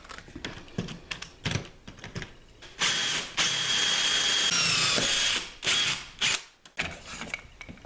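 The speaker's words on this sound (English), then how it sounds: "Now we switch to our included 1 inch hole saw bit." A power drill with a 1 inch hole saw bit cuts through a wooden door during a deadbolt install using a Dewalt door lock jig, a loud sustained whine preceded and followed by short clicks and handling noises.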